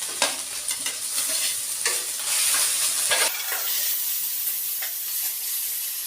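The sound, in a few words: ginger and garlic frying in a pan for fish curry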